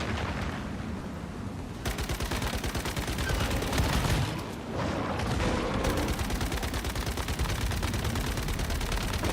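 Machine gun fire in the game Once Human during a Nightmare Prime War, rapid continuous bursts of shots, loud and close, with a brief pause partway through and a short lull before the firing resumes.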